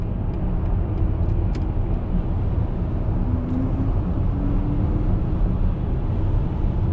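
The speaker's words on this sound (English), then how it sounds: "see firsthand some of that renowned BMW and electrical car acceleration" A 2022 BMW iX xDrive50 electric car accelerating, heard as a steady, loud road and tyre rumble with a faint rising motor whine partway through, no voices.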